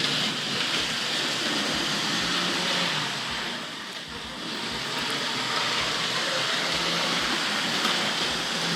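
A Lima Crab model locomotive runs on a layout pulling Hornby Railways wagons from the 1970s, a steady whirring rumble with regular rail-joint clicks, close and continuous, with no talking.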